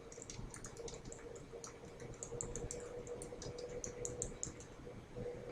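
Steady typing on a computer keyboard, a quick stream of light clicking keystrokes over a low background hum, close and fairly quiet, with no talk.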